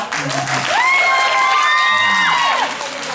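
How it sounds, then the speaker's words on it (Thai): An audience at a Thai insurance company's mini-concert event claps and cheers, with bright whoops and shouts rising over the applause before it fades near the end. "เขาจะปรบมือเลยครับ"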